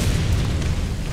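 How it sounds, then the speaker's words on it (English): Anti-aircraft gun fire striking a tank in a tank battle video game, a dense low rumbling boom of continuous impacts filling the short moment, loud and close with no talk. "Fucking anti-aircraft gun."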